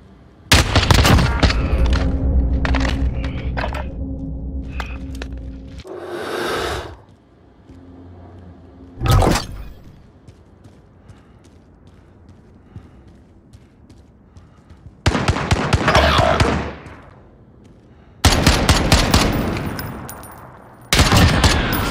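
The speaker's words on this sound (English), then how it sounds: "Gunfight." Gunfight in Call of Duty: Warzone: loud bursts of rapid automatic gunfire and sharp single shots arrive in separate clusters, with near-silent gaps and short booming blasts between them.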